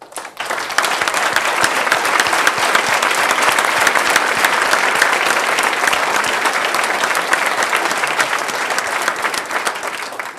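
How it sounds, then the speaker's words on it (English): An audience at an education press conference gives a loud, sustained round of applause for teachers, dense clapping that goes on for about ten seconds. "and let's applaud them."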